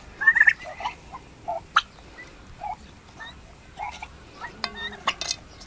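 Young turkey poults and chicks at feeding time give faint, scattered peeps and short chirps, with light clinks and soft rustling close by in a quiet farmyard setting.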